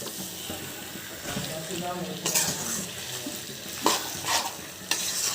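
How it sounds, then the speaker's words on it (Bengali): Boiled potatoes being sautéed in masala for an egg-and-potato curry: steady frying sizzle with scraping stir strokes and a few louder clanks from the spoon against the pan, close and moderately loud. "এখন আমি সেদ্ধ করা আলুটা দিয়ে দিচ্ছি। এটা দিয়ে আমি এখন সুন্দর করে এই যে আমি কষাচ্ছি।"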